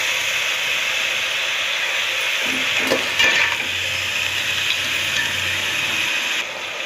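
Mint and coriander sautéing in a pan for vegetable biryani give a steady, close broadband sizzle and steam hiss with faint clinks of stirring partway through; no voices.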